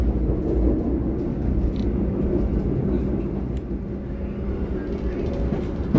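The Pangandaran passenger train nears Cipendei station at dusk, producing a loud, steady, low rumble of wheels and carriage noise that continues evenly throughout.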